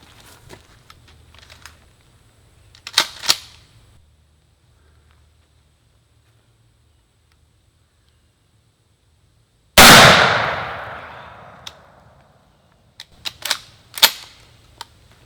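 A 12-gauge shotgun loaded with double-aught buckshot fires one loud, sharp blast with a long decaying echo. Before it come faint clicks and handling noises, and after it a few more snappy clicks.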